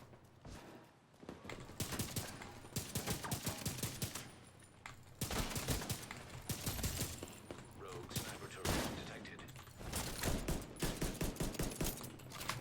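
Rapid rifle and automatic gunfire from The Division 2 PvP, dense bursts of shots repeating in clusters across the whole stretch with short pauses between volleys, loud and close, with faint voices now and then.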